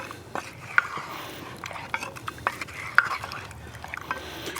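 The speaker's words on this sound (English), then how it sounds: "Stir that up" Carnitas with bay leaves are stirred in a pot over an open fire, with soft scraping and a few sharp metallic clinks of the spoon against the pot over a faint low background.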